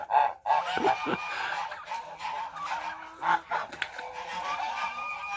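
Domestic geese honk and cackle close by in a farmyard shed, several birds calling over one another in uneven bursts.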